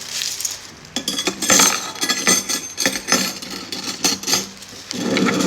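Six golden spoons rattle and clink against each other and a spoon holder as they are handled up close, with repeated metallic chinks and scrapes in irregular bursts throughout.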